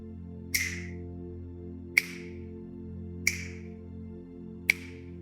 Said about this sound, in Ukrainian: Або це може бути звук клацання пальцями.